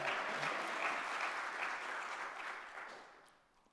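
A church congregation at an evening revival service bursts into sustained applause, a dense wash of clapping from a full room that holds steady, then thins and fades near the end.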